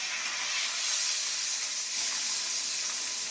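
Bay leaves, dried red chillies and green chillies fry in hot oil, giving a steady, close sizzling hiss that holds evenly throughout with no voices.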